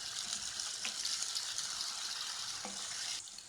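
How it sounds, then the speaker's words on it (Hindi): A tablespoon of ginger garlic paste frying in a pan for achari lauki chana dal, an even bright sizzle with a couple of soft stirring knocks, close, fading slightly at the end. "लहसुन अदरक का पेस्ट 1 टेबल स्पून, फ्राई करेंगे इसको"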